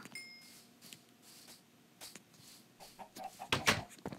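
Video game chickens cluck and squawk in short irregular bursts over a faint background hum, with a louder flurry of clucks toward the end.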